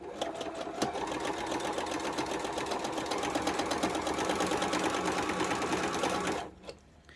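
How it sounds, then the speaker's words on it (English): Sewing machine running steadily for several seconds, stitching quilt block pieces in a rapid, even mechanical whir that stops abruptly near the end, close and clear with no talk. "let's start stitching these down"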